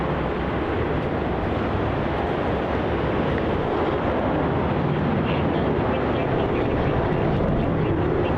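Qantas flight QF171 bound for Wellington passes overhead at Melbourne Airport, a steady, broad jet roar holding at one loud level throughout, with rushing wind noise on the microphone and no talk.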